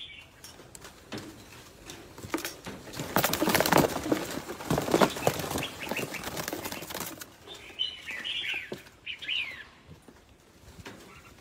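A flock of birds of Nghi Sơn stock beats its wings close by. The fluttering swells into a dense, loud burst in the middle and then thins out, with a few scattered chirps near the end.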